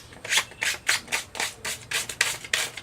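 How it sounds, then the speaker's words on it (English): Coarse 60 or 80 grit sandpaper rubs dirt and debris off the drive shaft of a pressure washer pump on a Honda GX200 6.5 HP engine, in about nine quick, close scrubbing strokes that follow one another steadily. "just brush off a little bit with sandpaper"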